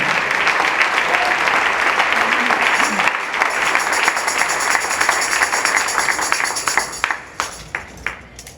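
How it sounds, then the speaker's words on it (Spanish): Applause from a church congregation fills the room steadily for about seven seconds, then breaks into a few scattered, fading claps at the end. "Denle ese aplauso al Señor."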